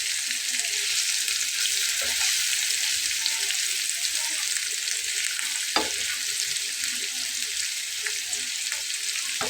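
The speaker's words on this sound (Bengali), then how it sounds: "একটু ঘন ঘন উল্টে দিলে মশলাটা কিন্তু পুড়বে না" Spice paste for a hilsa fish dish with potato fries and is stirred in a pan, a continuous close sizzle with occasional scraping taps of the spoon throughout.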